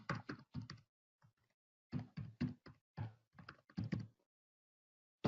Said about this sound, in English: Apologies for the rather loud typing.